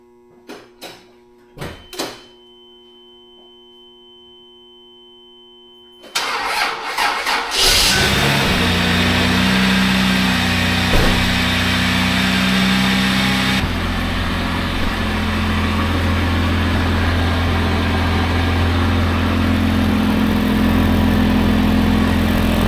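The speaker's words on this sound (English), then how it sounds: "See if we can get this thing fired up again." An old Toyota 80 Series Land Cruiser with a rotted, leaking exhaust cranks over after a few clicks and knocks, catches and settles into a loud, rough, steady idle close by.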